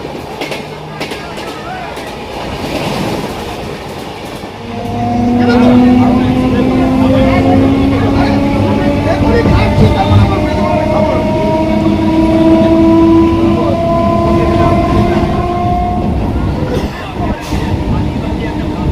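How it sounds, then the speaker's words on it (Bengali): A Goghat local passenger train pulling out of Belur station, its rumble swelling as it gathers speed on the rails, with long high-pitched wheel squeals and a steady rolling roar under occasional voices. "বেলুর ছেড়ে এবার আমাদের ট্রেন এগিয়ে চললো পরবর্তী স্টেশন বালির দিকে"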